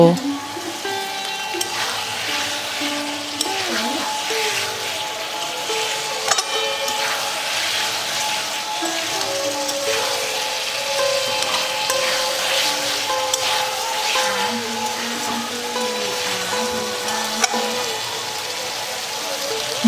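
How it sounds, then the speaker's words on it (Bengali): Vegetables, peas and fried paneer sautéed with spices in a pan give a steady, close sizzle with scattered stirring scrapes for about twenty seconds, with no talk over it. "এবারে সব কিছুকে ভালো মতো মশলার সঙ্গে মিশিয়ে নিয়ে কিছুক্ষণ কষিয়ে নেব"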